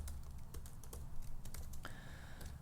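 Rapid, close clicking of keys on a computer keyboard, an even stream of keystrokes with no talking over it.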